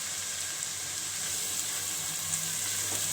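Softened onions with spices and salt sautéing in a pan, a constant close sizzle with faint stirring scrapes underneath and no talking.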